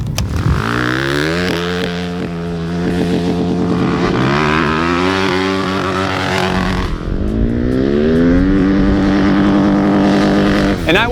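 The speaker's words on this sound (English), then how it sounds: "Let's try the rev limiter on a straightaway." A 2024 Beta 450 RX motocross bike revs up and holds against its rev limiter on a straightaway, giving a loud, close, buzzing engine note that stutters at the cutoff and keeps going the whole time.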